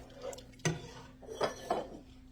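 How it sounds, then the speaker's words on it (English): Chili meat being stirred in a pot, giving a few distinct scraping clanks of a utensil against the pot at irregular intervals, moderately loud and close, with no talking. "I'm just going to stir that around"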